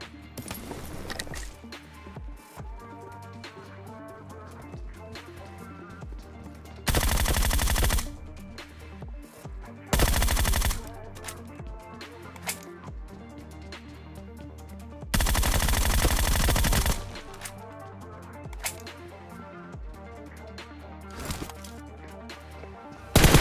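Groza assault rifle fire in the PUBG Mobile battle royale during close-range fighting, heard as loud automatic bursts at intervals, two long sustained volleys and several shorter ones, over quieter game ambience.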